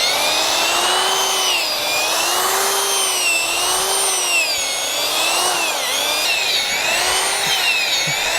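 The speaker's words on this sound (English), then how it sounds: "drill just will basically go deeper and deeper until it gets stuck." A power drill with an auger bores into soil, a loud, continuous motor whine close by that wavers up and down in pitch as the bit meets resistance.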